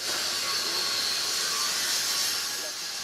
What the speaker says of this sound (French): En arrière-plan, vous l'entendez, un artisan qui découpe de la ferraille, certainement avec une tronçonneuse.